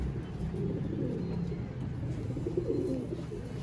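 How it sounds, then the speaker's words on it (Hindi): A Sialkoti pigeon coos softly in a low, murmuring run under steady background hum, fairly faint and close, with no clear speech. "ये कबूतर है, ये फीमेल है, ये मेल है"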